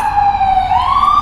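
An ambulance siren wails loudly and steadily up close, its tone holding level and then sliding upward in a continuous sweep with no other sounds over it.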